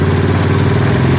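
A motorcycle engine idles during carburetor adjustment, a loud, close, even low throb that holds steady with no voices over it.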